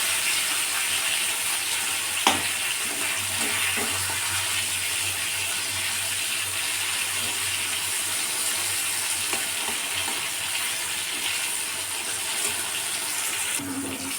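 Tender flat beans (shim) frying in a pan, a steady soft sizzle holding throughout with an occasional clack of stirring or turning.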